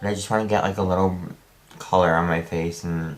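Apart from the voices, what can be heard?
No everyday noises stand out.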